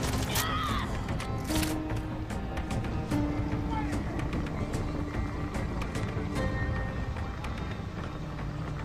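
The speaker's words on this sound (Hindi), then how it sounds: "ओ शिट भाई, अब तो ये चॉपर आ गया" Helicopter closing in during Far Cry 6 gameplay, a dense, loud, continuous rotor-and-engine roar blended with gunfire-like bursts and game noise throughout.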